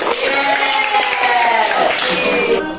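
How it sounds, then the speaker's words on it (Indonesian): A school class claps together in a classroom, loud and close, a steady burst of many hands with voices mixed in, fading toward the end. "Oke, tepuk tangan."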